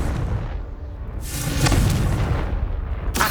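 A booming Confringo spell explosion in the Hogwarts Legacy video game bursts out with a sharp crack, followed by a rumbling roar and a second sharp burst near the end.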